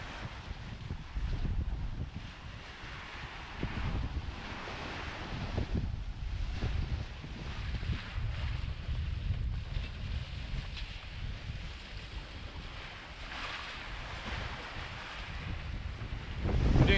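Wind rushes over the microphone as a sailboat runs across the open Pacific at speed, with water and waves washing along the hull in a continuous, fairly soft wash.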